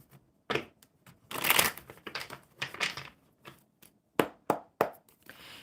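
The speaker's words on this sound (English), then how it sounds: "One more shuffle for Chris." A deck of oracle cards shuffled at close range, quick riffles and crisp snapping bursts alternating with brief quiet pauses.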